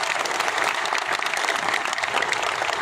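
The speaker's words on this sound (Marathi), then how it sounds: "त्यांच्यासाठी दोघांसाठी एकदा टाळ्या वाजवा जोरदार" A crowd at a public rally bursts into loud, sustained applause, a thick wall of clapping close around the listener that does not let up for nearly three seconds.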